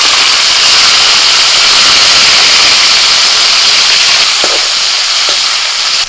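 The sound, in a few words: chopped tomato sizzling in spiced oil tempering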